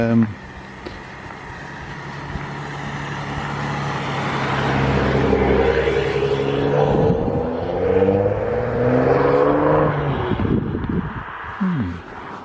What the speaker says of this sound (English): That was a black car.